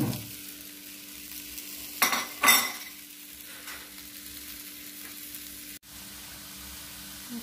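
Eggs stirred and frying with vegetables in a pan: a soft steady sizzle with two brief louder scraping stirs near the start and a sharp clink later, no talking.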